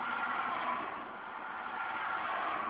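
A 2004 Honda Civic DX engine revving, a steady, muffled mid-range drone that dips slightly in the middle and rises again, heard at moderate distance with no talking.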